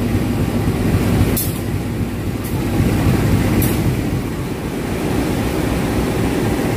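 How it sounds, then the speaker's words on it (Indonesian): A CC201 diesel locomotive at Garut station on New Year's Eve, a loud continuous low rumble of the engine and rolling train with a few faint sharp clicks. "Lokomotif yang berdinas"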